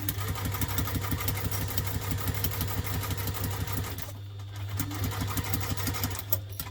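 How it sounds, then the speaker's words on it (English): A sewing machine runs a fast, even stitch along the seam of a double-compartment tiffin lunch tote, its rapid mechanical pulsing loud and close, dipping briefly about two-thirds through before resuming. "I'm going to just sew a little bit, and then I'm going to move out to the bigger seam allowance."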